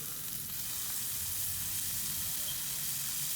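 Compound butter sizzles steadily on a ribeye steak in a cast iron skillet, a continuous bright hiss of frying with no break, moderately loud and close.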